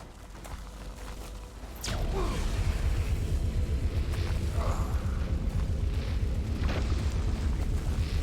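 An explosion in Fade To Silence erupts about two seconds in, a sudden heavy boom that rolls into a sustained rumbling roar with debris-like crackles and whooshes, loud and continuing to the end.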